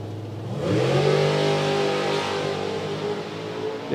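Pro Modified drag race cars roar down the strip, a loud engine note climbing sharply in pitch as they accelerate and then holding a sustained high roar.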